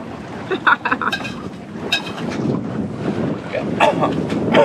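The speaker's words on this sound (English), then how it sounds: "Surprisingly, we actually have a little bit of wind." Wind rushing over the microphone aboard a sailboat off Norfolk, with gusty buffeting, water washing against the hull and brief bursts of louder blowing, close and fairly loud.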